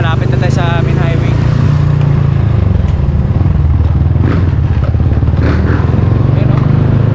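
A motorcycle with a broken, loud muffler rides along a road near a highway, its rough low engine drone close and constant throughout, with a few rattles and clatters on top.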